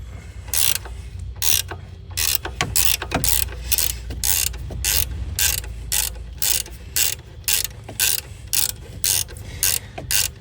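Ratchet wrench turning a 12 mm bolt on the alternator of a 2016 Hyundai Accent, giving a steady series of loud, close, rhythmic clicking bursts with no talk.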